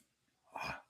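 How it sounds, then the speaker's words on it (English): A single person's sneeze bursts out near the end of a quiet second, short, close and fairly soft, with nothing else around it. "I gotta sneeze."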